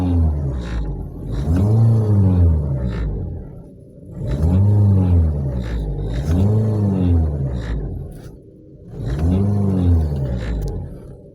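A Toyota Vios engine with a worn engine support and transmission support revs repeatedly in three rising and falling swells, giving a droning, rumbling tone with clattery vibration underneath between each rev.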